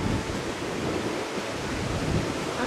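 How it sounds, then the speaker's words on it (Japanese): Ocean waves and surf churning offshore on a choppy day, a continuous broadband roar with wind buffeting the microphone, steady and unbroken with no voices. "奥が結構波が立ってるみたいで"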